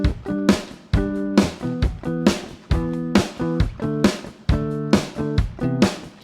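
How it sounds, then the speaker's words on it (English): Electric guitar strumming a simple, common chord progression, sharp rhythmic chord hits repeating in a steady pulse with bright ringing harmonics, played alone and fairly loud. "let's go ahead and listen to the guitar part that came out"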